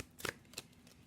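Rider-Waite tarot cards shuffled by hand in two quick riffling bursts, close and fairly soft, with a quiet pause between them.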